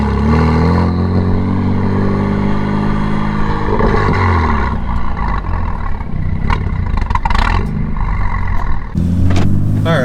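A BMW F80 M3 fitted with high-flow downpipes drives past close and loud, its engine droning and revving with deep exhaust rumble and a few crackles and pops as the throttle changes.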